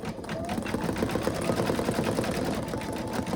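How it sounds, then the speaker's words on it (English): An embroidery machine stitches out leaves in a lighter green thread, a steady rapid mechanical chatter running continuously at close range with no pauses. "it's going to stitch out what I'm believing to be leaves."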